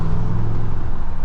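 Low, steady engine grumble from a 2022 Ram 1500 Sport GT truck pulling under acceleration in sport mode, a continuous close rumble lasting about a second with no voices.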